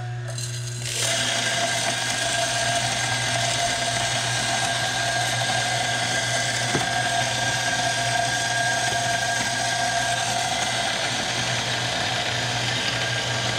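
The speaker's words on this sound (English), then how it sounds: "I'll start my grinder up." An electric coffee grinder spins up and grinds September Coffee beans: a steady, loud mechanical whir with a constant hum, running evenly for the whole stretch after a brief quiet start, no talking.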